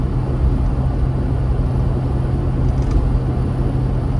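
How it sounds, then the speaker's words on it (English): Highway traffic heard from inside a moving RV, a constant loud low road rumble and drone with no distinct individual passes standing out. "Starting to pick up a little bit more traffic here as we get closer to"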